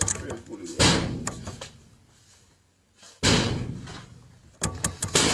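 A door is pulled and slammed twice, each a loud sharp bang with a brief rattling decay, followed by further knocks and thumps near the end, with voices around the action.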